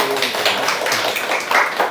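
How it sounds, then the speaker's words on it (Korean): Applause from a church congregation during a sermon, a steady dense patter of many hands clapping at close range that holds for the full two seconds without any voice over it. "여러분의 박수가 시기의 박수가 아니라 칭찬과 격려의 박수가 되길 바랍니다"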